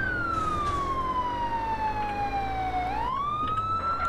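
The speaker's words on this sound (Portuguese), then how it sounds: "Como é que desliga a sirene" A wailing police car siren in GTA San Andreas sounds loud and close, sweeping in a slow downward glide and then rising sharply again, over a steady engine and road rumble with no speech.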